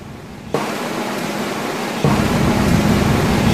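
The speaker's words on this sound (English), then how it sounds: "It's raining tonight," Broad, steady hiss of rain that suddenly grows louder twice, like a downpour intensifying, with no voices.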